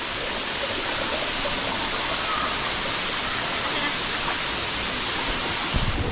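A powerful waterfall roars in a constant, dense wash of rushing water, loud and close, with no break across the whole stretch.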